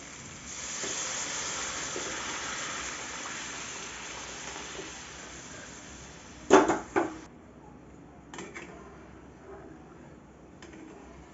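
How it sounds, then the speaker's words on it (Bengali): Boiled lentils going into spiced masala cooking in a pan, a soft continuous hiss and sizzle building, then a few sharp clattering bursts from stirring before it quiets again, with no voices. "আমি এখন সিদ্ধ করা ডালটা এর মধ্যে দিয়ে দেব।"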